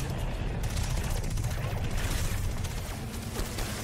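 Rapid gunfire in the video game Destiny 2 during the Vow of the Disciple raid, a dense continuous fusillade of shots with heavy low thumps, steady and fairly loud for the whole span.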